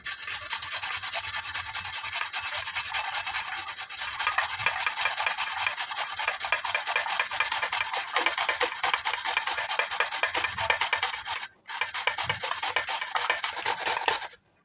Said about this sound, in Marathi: त्यावर आता बटाटा किसून घेतली हा बटाट्याचा किस करायचा आहे